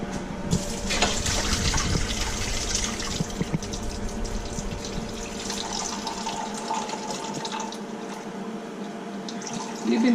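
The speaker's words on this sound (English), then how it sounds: "Now I'll drain my water from the rice." Water pours and splashes steadily for several seconds, close by, with gurgling and clatter as it drains from a pot of cooked rice.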